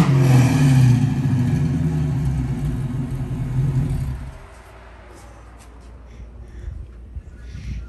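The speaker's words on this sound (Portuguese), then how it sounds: "olha o motor que ele colocou nessa caminhonete antiga" The engine of an old Chevrolet Marta Rocha pickup truck runs with a loud, deep rumble that eases down after a few seconds to a quieter, steady idle, heard close by.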